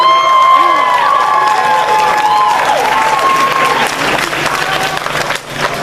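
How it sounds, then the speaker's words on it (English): A graduation audience applauds and cheers the Class of 2017 at the University of California, Davis, a loud, sustained crowd sound with whistles and shouts rising through it, fading slightly near the end. "Class of 2017, give your supporters a round of applause for their support for you"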